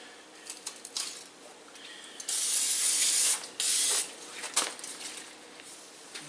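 Aerosol brake cleaner sprays in two sustained hissing bursts during front brake work on a 1985 Corvette, with short puffs and light clinks of handling in between; no one talks.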